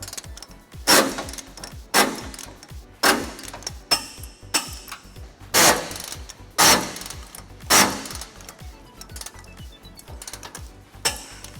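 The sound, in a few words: ratchet with 19mm socket tightening trailer hitch bolts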